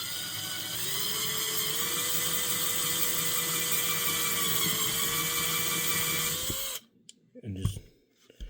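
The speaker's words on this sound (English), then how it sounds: "keep it straight and drill it out" A small drill with a number 56 bit bores out the post of a Hot Wheels die-cast car, giving a close, steady high whine for several seconds before it stops and a few faint handling knocks follow.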